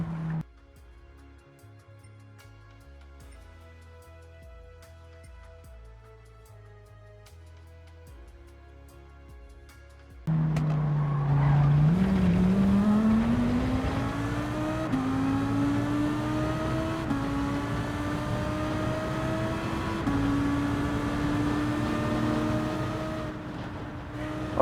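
Lamborghini Huracan Group 3 race car in Gran Turismo 7: quiet game music first, then the engine roars in, revving hard and climbing in pitch through several upshifts, loud and sustained.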